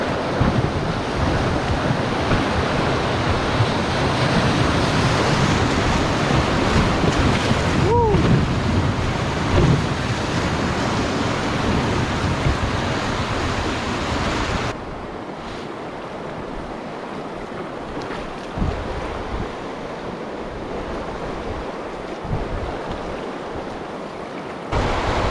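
Whitewater rushes down Clear Creek in Alaska in a loud, continuous roar with heavy wind buffeting the microphone, then drops abruptly to a quieter, steadier rush partway through.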